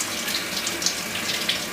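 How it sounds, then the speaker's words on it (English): Tap water runs steadily into a kitchen sink as a spoon is rinsed during cooking, giving a continuous close splashing hiss with no pauses. "Let me just wash the spoon"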